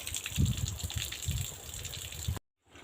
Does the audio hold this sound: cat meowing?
no